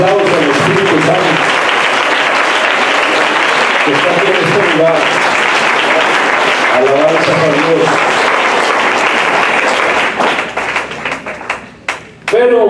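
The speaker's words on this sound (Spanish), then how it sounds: "Eso es un aplauso al Espíritu Santo" A church congregation applauds with loud, sustained clapping for about ten seconds, mixed with voices and a speaker talking over it, before the clapping breaks up and fades near the end.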